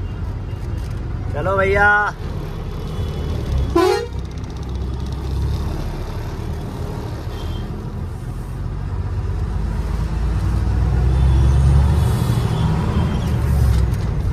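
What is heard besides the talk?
Azadpur wholesale vegetable market in Delhi, traffic and horns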